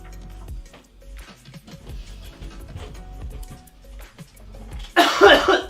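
A person coughs once, sharply and close, near the end after a stretch of quiet kitchen clatter.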